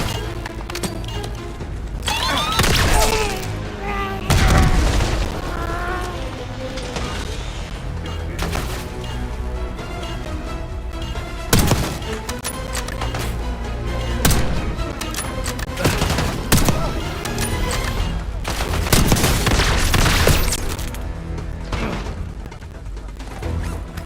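Grenade blasts and rattling rifle fire in a Call of Duty: Black Ops 6 firefight in Iraq, several heavy booms with bursts of shots and mechanical clatter between them, loud and dense throughout.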